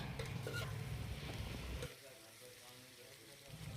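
Chicken curry with salt being stirred in a pan gives a faint, close scraping and bubbling sizzle that is busier at first, then settles into a softer simmer.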